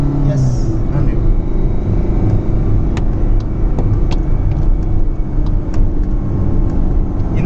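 A Ford Ikon car drives along while gears are shifted, making a loud, steady engine and road rumble heard from inside the car throughout, with faint clicks over it.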